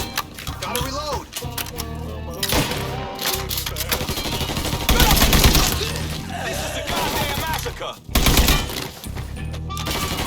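Sustained automatic gunfire in the open-world game Mafia 3 during a pinned-down firefight, loud rattling bursts with brief pauses, under in-game voices talking over the shooting.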